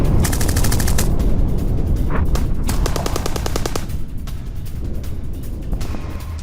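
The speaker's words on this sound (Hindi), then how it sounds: "हिजबुल्लाह के पोस्ट पर इजराइल डिफेंस फोर्स की फायरिंग" Sustained automatic gunfire from Israel Defense Forces firing on Hezbollah posts in southern Lebanon, loud, dense bursts of rapid shots rattling continuously with heavy low rumble throughout.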